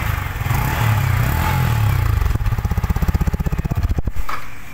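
A 2023 Yamaha R15 M motorcycle engine revs loudly up close, a steady roar breaking into a rapid, throbbing pulse.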